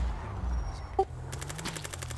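Gunfire in a video game is heard as one sharp shot, followed by a rapid series of quieter shots at a moderate distance over low background rumble.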